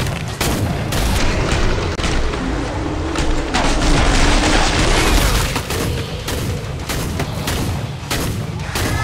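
Rapid gunfire from the video game Killing Floor 2, dense and loud with booming blasts layered over a constant, busy battle din for the whole stretch.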